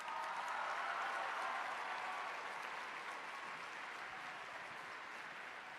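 Warm audience applause for a singer-songwriter being welcomed onstage at a Utah summit event, a dense, steady wash of many hands clapping that fades slightly toward the end.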